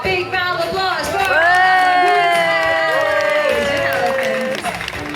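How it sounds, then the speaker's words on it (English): An audience at an elephant show cheers and whoops, with high children's shouts and applause blending into a loud, continuous burst of crowd noise. "One last time, a big round of applause for"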